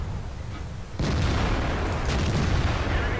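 Tank cannon firing in a tank video game, including a T57 and a T95: a sudden loud boom lands about a second in, followed by a sustained rumbling roar that fills the rest of the stretch.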